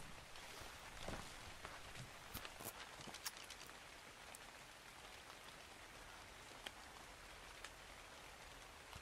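Steady rain falls in the survival video game Ark Survival Evolved, a continuous dense hiss of drops with scattered sharper patters, spread evenly and fairly close across the whole stretch with no talk.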